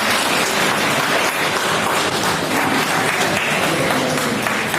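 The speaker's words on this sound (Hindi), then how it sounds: "जोरदार तालियों के साथ" A crowd applauds at a chess event, giving loud, dense, unbroken clapping that stays even for the whole stretch.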